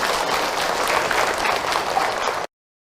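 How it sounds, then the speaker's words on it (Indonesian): An audience at a religious lecture breaks into loud, dense applause, many hands clapping close by without pause for about two and a half seconds before it cuts off abruptly. "Tepuk tangan buat beliau."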